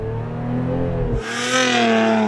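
A Lotus Emira sports car launching hard, its engine droning loud and close, then rising in pitch after a brief gear-shift dip as it accelerates, with no talk.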